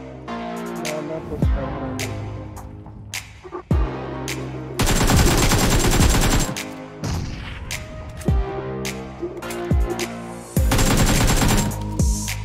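Gunfire in PUBG laid down as cover fire, loud repeated bursts of automatic shots broken by sharp single cracks and short pauses, mixed with game effects and heard close throughout.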